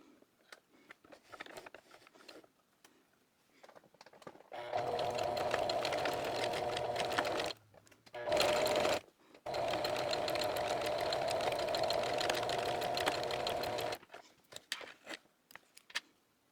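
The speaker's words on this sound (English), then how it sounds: "I'm just gonna sew at 5/8 of an inch seam allowance across here." A sewing machine stitches a dress seam at a 5/8-inch allowance, running steadily and close for several seconds, stopping briefly, giving a short burst, then running again, with quiet handling noises before and after.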